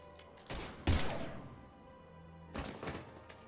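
Gunfire erupts in a Mass Effect 3 firefight, with two heavy bursts of shots about two seconds apart, loud and close, over a low rumble.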